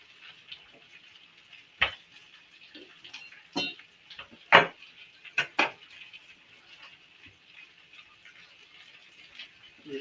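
Potatoes fry quietly in a pan as a soft, continuous sizzle, with scattered sharper pops and crackles rising above it now and then, close by and without speech.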